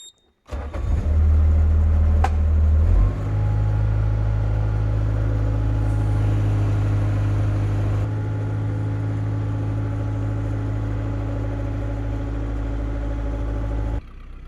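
A car engine starts with a sharp crank, then settles into a loud, steady, close idle hum that continues for many seconds while reversing a boat trailer, with a slight drop in level midway.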